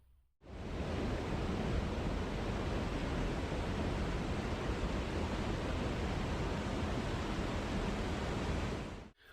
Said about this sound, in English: I'll pause you guys for a second and just fill all my water containers down here